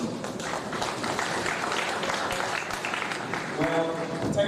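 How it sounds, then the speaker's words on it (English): Audience applause at a birthday address by the President of Sierra Leone in Freetown, a broad continuous clatter of many hands, fairly even in loudness, with some voices mixed in. "Another one of applause."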